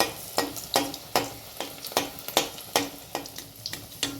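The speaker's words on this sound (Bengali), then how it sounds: "এইভাবে উপর থেকে আমি তেলটা খুব ভালো করে দিয়ে দিচ্ছি, তাহলে উপর দিকটাও ভাজা যাবে আর নিচটাও ভাজা যাচ্ছে" Oil is spooned over puffed-rice (muri) chops frying in a pan, making rhythmic bursts of sizzling and splashing roughly every half second, loud and close, with no speech.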